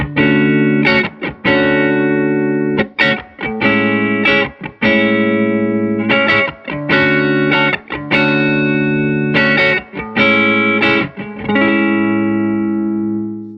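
Electric guitar played through a GFI System Solis Ventus stereo effects pedal, with sustained distorted chords and notes in repeated phrases, washed in chorus and reverb, loud and close.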